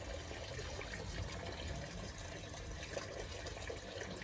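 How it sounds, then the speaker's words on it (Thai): Water falls steadily from a garden fixture among potted strawberry plants, a faint continuous trickle and splash with no talk. "เสียงอัน น้ำตกออกจากอันนี้"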